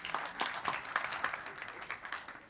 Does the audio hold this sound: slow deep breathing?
no